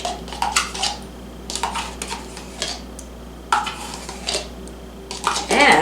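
A spoon clinks and scrapes against a bowl while mixing Yoplait yogurt, in quick irregular bursts of clattering and stirring, close and fairly loud, with short pauses between strokes.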